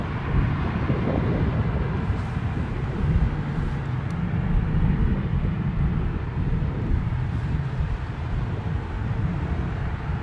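An airliner takes off at London Heathrow Airport, its engines giving a steady, loud broadband roar that holds for the whole stretch with no talking.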